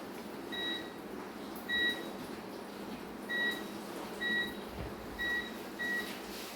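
Air fryer control panel beeping while the cooking time is set: six short, crisp electronic beeps at irregular intervals in a quiet kitchen, with no voices over them.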